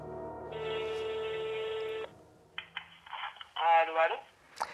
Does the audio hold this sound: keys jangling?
no